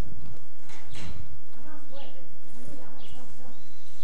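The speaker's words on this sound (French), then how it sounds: "Tu es en train de nourrir les chevaux." Horses being fed beside a board fence on an Ontario farm, with a few hoof clops and shuffling up close while people talk over them.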